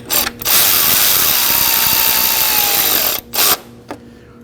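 A ratchet snugs up the four starter bolts on a 2011-2016 Kia Optima, making a loud, close, continuous whirring buzz for about three seconds, then a short second burst and a faint click.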